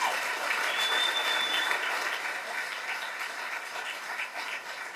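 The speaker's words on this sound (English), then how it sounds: "let's give Sarah another round of applause." A board of education meeting audience gives sustained applause, fairly even and moderately loud throughout, tapering slightly toward the end with no talk over it.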